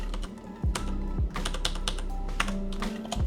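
Fingers type quickly on a computer keyboard, close and clear, an irregular run of clicking keystrokes with no voices.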